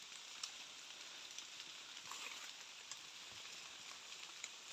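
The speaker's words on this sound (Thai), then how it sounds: "ฝนก็ยิบอยู่" Light rain falling in a forest in winter, a soft continuous hiss of fine drops pattering on leaves, faint and even with a few tiny ticks, no voices.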